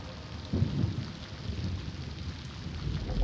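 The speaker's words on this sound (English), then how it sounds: "From my window, I watched the intensifying storm pummel the surface of the reflecting pool below." Heavy rain pounds down during a thunderstorm over a reflecting pool ringed by carved granite, a steady dense roar of downpour with low rumbling thunder swelling beneath it throughout.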